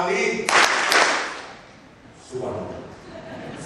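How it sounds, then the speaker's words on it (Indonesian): An audience of high school students claps on cue during a dialogue session, a burst of clapping early on followed by a second, softer burst after a pause, with speech around it. "Tepuk tangan 2 kali."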